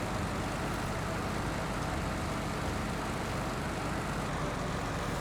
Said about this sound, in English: Seriously, why is this engine so loud?